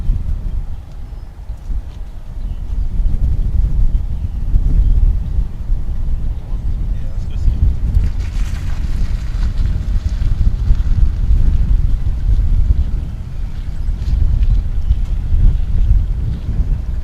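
A jet airliner rolls and climbs away on takeoff at DFW Airport, a steady loud roar with heavy wind buffeting across the whole span, muffled and continuous rather than distinct.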